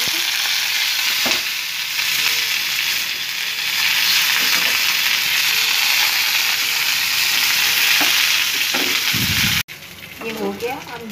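Curry leaves and cumin sizzle in hot oil as a tempering for bottle gourd raita: a loud, steady frying hiss runs throughout with a few stirring knocks, then cuts abruptly to a quieter, different sound near the end.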